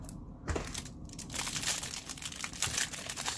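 Crinkly plastic wrapper on a 2019-20 Panini Chronicles basketball card pack being torn open, with close, loud crackling and crunching bursts and no talking.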